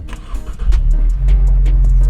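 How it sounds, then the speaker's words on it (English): A 2024 Ford Mustang EcoBoost cranks with a few quick ticks and whirs, then its engine catches into a loud, steady low idle close by. "you're gonna go ahead and turn on your car"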